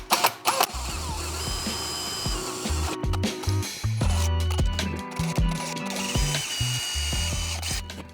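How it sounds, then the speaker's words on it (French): Small holes being drilled in an aluminium rail for an LED strip on a stone wall, a drill revving in short uneven bursts with ratcheting, stuttering pitch changes and brief pauses, close up and alone. "Je perce mon rail."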